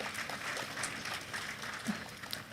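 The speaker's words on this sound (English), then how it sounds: "Please, a round of applause for His Excellency." Clapping rises from the audience at the Nigerian Economic Society conference honoring the Vice President, a soft, somewhat distant patter of hands in a large hall, fairly even and sustained, with faint voices mixed in.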